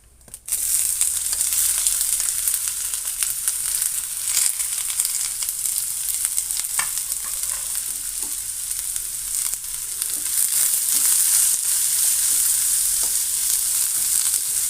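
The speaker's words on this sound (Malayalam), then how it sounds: "വെളിച്ചെണ്ണ ഏകദേശം ചൂടായി വരുമ്പോൾ നമുക്ക് അരിഞ്ഞ് വെച്ച സവാള ഇട്ട് കൊടുക്കാം." Chopped onions sizzle steadily in hot coconut oil for a soyabean chilli dry, a dense continuous frying hiss with occasional stirring scrapes, close and fairly loud throughout.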